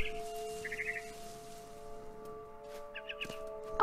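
A frightened bird in the video game What Remains of Edith Finch chirps in two short, faint bursts of rapid tweets, one early and one near the end, over a steady low electronic hum.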